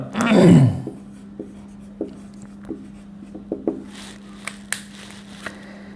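Chalk or marker writing on a classroom board during a Bengali math lesson on permutations and combinations, heard as a burst of scratchy strokes followed by scattered light taps and squeaks, close and fairly clear with no talking.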